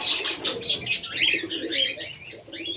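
Pigeons at a water dish in a village loft, soft cooing and chirping calls overlapping continuously with occasional wing flutters, close and moderately loud with no talking.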